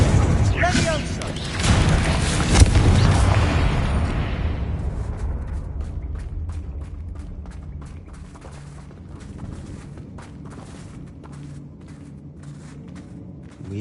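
A Confringo fire spell bursts into an explosion in Hogwarts Legacy, a loud booming blast that rumbles and fades over a few seconds before quieter footsteps and ambience, with a voice speaking briefly over the start.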